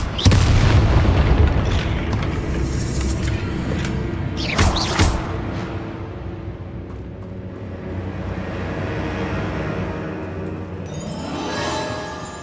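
Spell explosions from the Bombarda charm in Hogwarts Legacy boom heavily: a big deep blast at the start, then further crashing bursts around the middle, with rumbling debris fading into a quieter hiss near the end.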